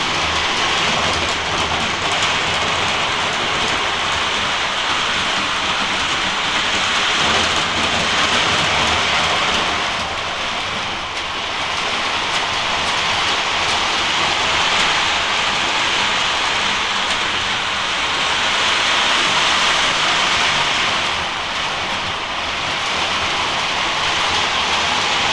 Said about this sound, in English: Train's up and running.